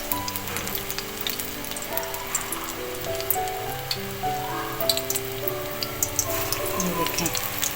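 Spinach and potato lachha pakoras fry in hot oil with a steady, dense crackling sizzle that runs throughout, while a voice speaks over it.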